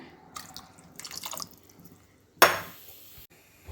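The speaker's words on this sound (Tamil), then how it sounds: "இப்போ நான் ஊற வச்ச புளி தண்ணி அது கூட சேர்த்துக்கிறேன்." Soaked tamarind water pours into a pot of sambar with cooked dal, a short splashing rush after some earlier faint clinks and drips, close and fairly quiet with no talking.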